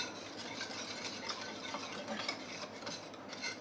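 A spoon stirring lemon cream mixed with banana in a bowl, soft continuous scraping and rubbing strokes, quiet and close, with no talking.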